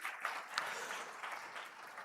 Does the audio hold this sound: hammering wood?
no